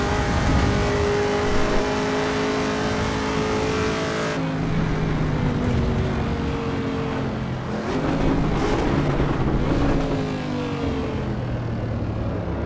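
A race car engine in Assetto Corsa EVO revs hard through a lap, loud and close, climbing and dropping through gear changes with steady tyre and road roar underneath.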